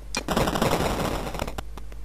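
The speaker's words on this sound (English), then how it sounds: "see if that suspicious looking wall shall yield to my bombs" A bomb blast demolishing a stone wall in the video game Cadaver: a loud, dense crackling burst with rattling debris that fades in a few sharp pops.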